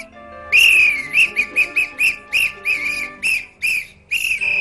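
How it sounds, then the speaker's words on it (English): A toy whistle is blown in a quick series of about a dozen shrill, piercing toots, each short and sharp with brief gaps between, loud and close with no talking. "But not everyone was happy with Fabian's new whistle."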